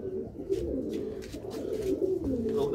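A pilkha-breed pigeon coos close by, a continuous low, warbling murmur with repeated rising phrases.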